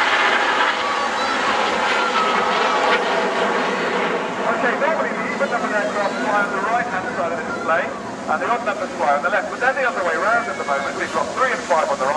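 RAF Red Arrows jets flying a display at the Bournemouth Air Festival, a steady broad roar of jet engines that runs under a commentator's continuous narration throughout.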